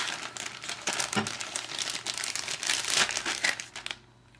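Foil or plastic wrapper crinkling continuously while being unwrapped for a hookah session, close and fairly loud, with dense crackling bursts throughout before it stops abruptly near the end.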